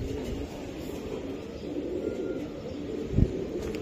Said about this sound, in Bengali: এই যে বন্ধুরা দেখাই আমি আর একটা কবুতর, খুবই একটা সুপার ডুপার কবুতর